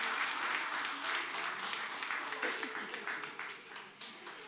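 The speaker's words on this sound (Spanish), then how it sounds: "Gracias, iglesia. Un aplauso." Applause from a church congregation, fairly steady at first and thinning toward the end, with voices mixed in.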